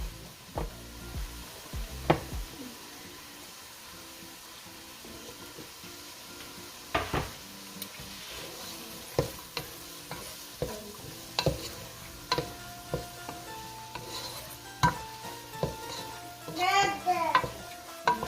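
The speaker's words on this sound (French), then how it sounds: "Là maintenant je vais rajouter les carottes pour que ça puisse cuire encore ensemble avec le poivron" Carrots and bell pepper stir-fry in a pan for a Thai-style fried rice with shrimp. A steady soft sizzle runs throughout, broken by repeated sharp scrapes and taps of a utensil, close and moderately loud.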